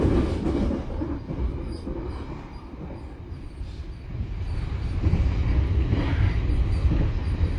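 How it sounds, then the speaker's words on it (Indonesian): The Tegal Bahari business-class passenger train rumbles along steadily with a low, continuous roar and faint rattling wheels, heard from inside, growing slightly louder toward the end. "kereta api Tegal Bahari berjalan langsung stasiun Pegadaian Baru,"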